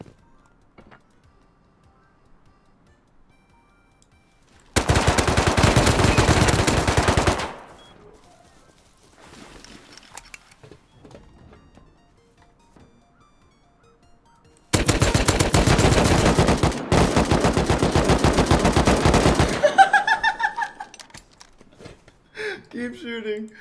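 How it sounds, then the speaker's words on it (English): Video game gunfire comes in two long, loud bursts of rapid automatic shots, the first lasting about three seconds and the second about five, with quieter clicks and scattered faint shots between them. "Keep shooting."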